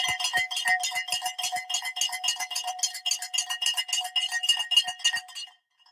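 A stock market opening bell rings in a rapid, continuous clatter of metallic strikes for several seconds. It is moderately loud and without voices, then stops abruptly.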